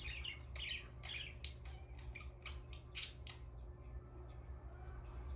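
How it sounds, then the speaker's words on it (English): Faint bird calls outdoors: scattered, high chirps repeat over a quiet, steady background hum, with no voices present. "The birds are a little quieter today for some reason"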